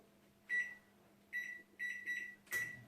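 An oven beeps while being set to preheat to 400, giving four or five short, clear electronic beeps at uneven spacing, close by in a quiet room.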